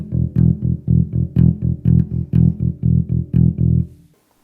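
Funk electric bass guitar plays rapid sixteenth notes, a quick even run of about fourteen short, punchy low plucks that stop cleanly, played solo and close.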